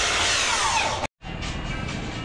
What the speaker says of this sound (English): instead of using the nail gun, I'm just gonna come from behind with screws and screw them in